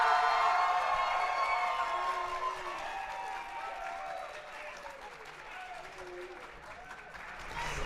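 An audience at a Gen Con tabletop role-playing game event applauds and cheers with scattered whoops, loud at first and slowly fading, while voices carry over the clapping.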